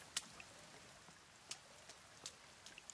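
Rainfall in the survival game The Forest, a soft continuous patter with a few distinct, brighter droplet hits standing out at irregular intervals.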